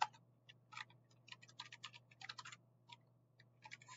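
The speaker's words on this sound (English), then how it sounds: "So we'll go here and we'll type in" Typing on a computer keyboard, quick irregular clusters of soft key clicks close by over a faint steady hum, with no voices.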